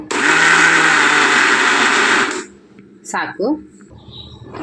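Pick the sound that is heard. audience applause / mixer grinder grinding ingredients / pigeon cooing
mixer grinder grinding ingredients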